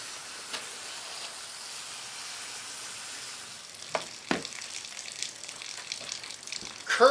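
A garden hose sprays water onto plants in a homestead garden, giving a soft, steady hiss with a few sharp knocks and splashes that grow busier toward the end.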